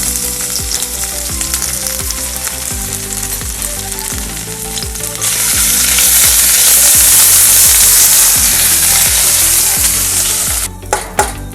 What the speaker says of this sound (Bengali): তেলটা গরম হয়ে গেছে, আমি এবার এর মধ্যে শুকনো লঙ্কা দিয়ে দিচ্ছি।